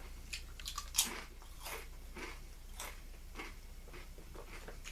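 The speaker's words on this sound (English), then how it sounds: "I'm gonna take this chip and eat it. My oh my, that is a crunchy chip." Crunching into a Lay's Crunch Tators potato chip, a sharp loud bite followed by a series of close, brittle chewing crunches, quiet between them.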